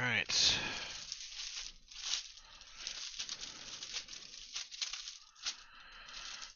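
Foil wrapper of a football trading card pack torn open by hand during a card break. A sharp rip comes at the start, followed by scattered crinkling and rustling of the packaging, close and moderately quiet.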